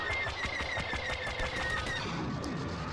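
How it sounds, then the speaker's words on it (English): Rapid automatic gunfire from a Star Wars Battlefront match, dense bursts of shots crackling continuously and loudly for several seconds, with no talk over it. "Oh, I was shooting my own teammate."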